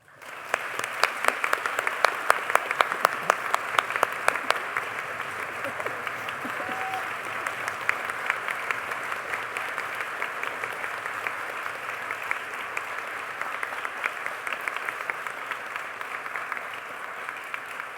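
An audience applauds at an honors day awards convocation, a steady sustained clapping that rises quickly and continues at moderate volume throughout, with individual claps audible.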